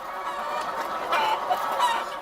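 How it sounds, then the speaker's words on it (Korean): Caged laying hens clucking and cackling together, a dense chorus of overlapping bird calls with a few louder squawks rising out of it, steady and close. "한 마리가 울기 시작하면 나머지 닭들도 울어댈 정도로 예민하기도 하다"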